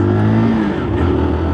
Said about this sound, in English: Right, come on little bike.